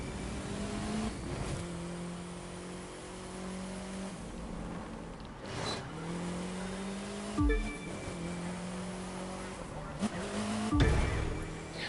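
A car in The Crew 2 racing game revs hard and drives fast, its engine whine climbing and dropping through gear changes with occasional sharp bumps and tire noise, loud and continuous, with a voice talking underneath.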